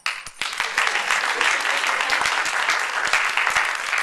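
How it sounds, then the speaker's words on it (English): Audience applause at a live talk event, a dense sustained burst of many hands clapping close by, steady and loud for several seconds after a brief pause at the start, with no voices over it. "Clap."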